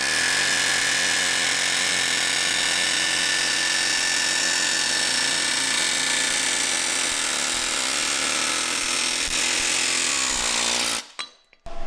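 Power tool working on a spring pin of a Kenworth K100 cabover truck, a loud continuous high-pitched grinding and whirring for about eleven seconds, then abruptly stopping and leaving brief quiet.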